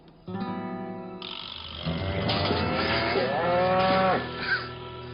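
A cow being milked moos loudly and close, a long, drawn-out low call swelling over several seconds before trailing off, with no talk over it.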